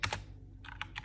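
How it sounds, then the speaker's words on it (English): Bursts of typing on a computer keyboard, a quick cluster of keystrokes, a short pause, then several more scattered taps, close and fairly quiet. "Red, typing there,"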